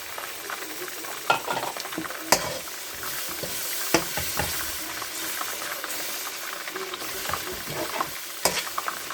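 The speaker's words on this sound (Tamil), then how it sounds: "புதினா இதில் அரைச்சி வச்சுக்கோங்க, அதை போட்டுக்கிறேன்." Ground mint paste frying and being stirred in a pot for mutton biryani: a steady close sizzle and hiss with repeated sharp scrapes and clacks of the spoon against the pan, no voices.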